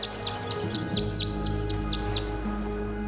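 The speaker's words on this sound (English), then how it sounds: "The birds seem to like it. They're even singing a little tune." Birds at a bird bath in the video game Tangle Tower sing a repeated series of about a dozen short, bright chirps in a steady rhythm over a soft ambient music bed.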